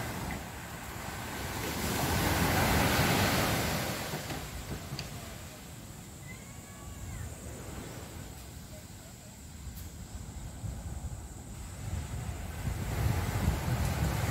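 Surf washing onto Mawun beach on Lombok, a steady broadband roar that swells and recedes, with wind noise across the microphone and faint voices in the background.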